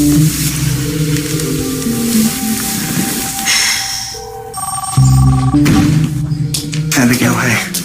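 A telephone rings with a loud electronic bell tone in bursts, mixed with busy background sound and some voices.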